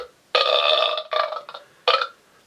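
A red novelty sound machine plays a loud, close belch effect, one long gravelly burp broken into three bursts, the last short and abrupt, with quiet gaps between.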